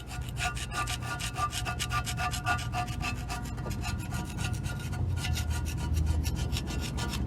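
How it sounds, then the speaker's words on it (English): An old gasket being scraped off a cast iron intake manifold for a 400 small block in a 1986 GMC Sierra, a continuous rapid rasping scrape in quick repeated strokes, close and loud with no talking. "Notice how that scrapes the gasket right off."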